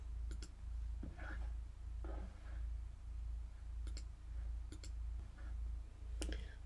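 A computer mouse clicks in a recruiting application, a handful of sharp isolated clicks spaced irregularly over a steady low hum, near and fairly quiet.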